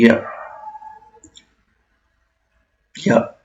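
A computer mouse is clicked to open a new browser tab, making a couple of quick, light clicks in a pause between stretches of a person talking.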